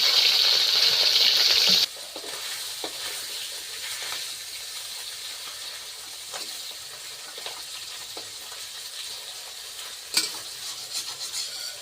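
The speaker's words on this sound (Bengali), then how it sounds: "তেলটা গরম হয়ে গেলে এবার মাছগুলো দিয়ে ভেজে নেব।" Pond bata fish frying in hot oil in a wok in a village kitchen: a loud, steady sizzle and hiss throughout, with occasional light clinks and stirring, and no talk.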